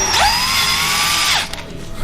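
A drill bores out a stripped hole on a Kohler CH25S twin-cylinder engine from a Grasshopper zero-turn mower, a steady whining spin for about a second and a half that winds down, alone and close.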